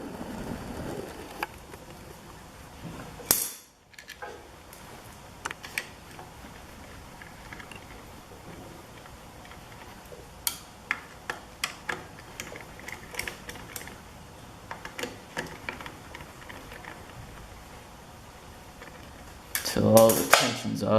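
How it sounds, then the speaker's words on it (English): Bolts being removed from a Honda CB750 clutch spring cover, with scattered metallic clicks and ratchet ticks close by over a low background hum, plus a brief clunk near the end. "you're going to want to hold it while you remove these bolts"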